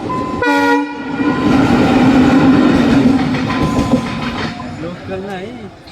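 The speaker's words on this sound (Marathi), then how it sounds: "लोकल नाही फक्त इंजनच आले" A lone locomotive engine on the Matheran hill railway sounds its horn, then rumbles and clatters loudly close by as it rolls in, with faint voices under the noise.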